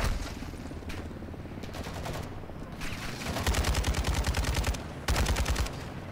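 Rapid automatic gunfire in Call of Duty Modern Warfare II, loud close bursts of machine-gun fire in several strings with short pauses between them, the heaviest volleys coming late.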